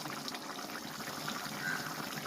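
Tamarind water trickles softly into a pot of sardine (maththi) fish curry, a faint, brief liquid pour with no voices over it.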